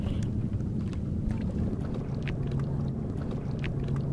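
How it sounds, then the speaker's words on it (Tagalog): Ships dumping fill for a land reclamation project send a low continuous engine drone across the water, steady and distant, mixed with wind buffeting the microphone and no speech. "Yung naririnig natin ugong, kuya, yung mga barko yan."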